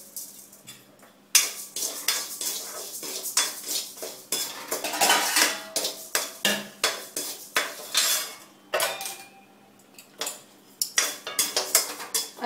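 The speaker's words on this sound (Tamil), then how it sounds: "அரிசியை நன்கு வறுத்து சிவக்கு மறை வறுக்க வேண்டும்" Rice dry-roasting in a pan is stirred with a metal spoon, giving a dense run of close scraping and clinking strokes in uneven bursts with brief pauses, no voices.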